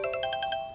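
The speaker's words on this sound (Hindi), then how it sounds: "अरे उनका ही फोन है।" A phone ringtone chimes in a quick repeating pattern of about six bright tonal pulses, clear and close, with no talking over it.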